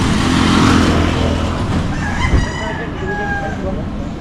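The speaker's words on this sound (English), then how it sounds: "And you hear chickens everywhere." A rooster crows loudly nearby, with clucking fowl and a passing engine rumbling in the background, outside the tourist zone in El Nido, Palawan, Philippines.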